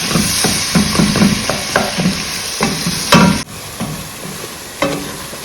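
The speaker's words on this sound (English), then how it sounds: "You really need to caramelize this onion, guys." Onion frying in coconut oil while being stirred, steady sizzling with repeated scraping and clattering strokes of the spoon against the pan, close and fairly loud.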